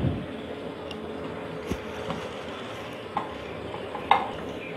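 A clay pot heats on a stove as cold-pressed sesame oil is poured in, producing soft low sizzling with occasional light clinks and scrapes of a utensil against the pot, quiet and close, without speech.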